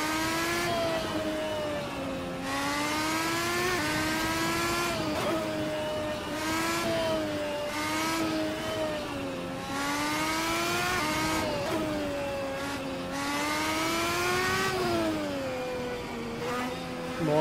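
Engine of a Red Bull X2010 race car in Assetto Corsa, driven around the bumpy Nordschleife, a high, rising-and-falling whine through repeated upshifts and lifts, steady and prominent throughout with no voices.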